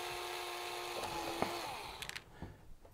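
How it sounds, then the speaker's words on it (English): A power drill whines steadily while boring holes for window blind clips, the motor tone holding then shifting and winding down near the end, followed by a few light clicks and handling knocks. "And then we need to drill these holes for the clips to go in."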